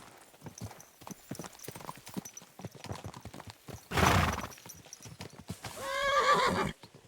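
Hooves clip-clop along at a steady pace, then a loud horse whinny rises near the end. The horse is in a video game.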